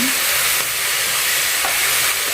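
Tomatoes sautéing in oil for a drumstick-flower stir-fry, a loud continuous sizzle with faint stirring scrapes running throughout, close and steady with no voices.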